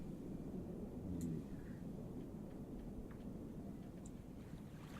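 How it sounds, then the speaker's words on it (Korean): Steady low rushing winter wind noise fills the whole stretch, a continuous broadband roar with no voices, from the Noizio ambient sound app. "겨울바람 소리라네요."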